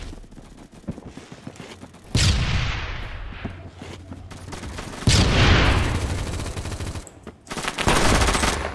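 BFG 50 sniper rifle fire in the video game Phantom Forces: loud, close booming shots, each followed by a long rumbling decay, two main blasts among scattered background gunfire from other players.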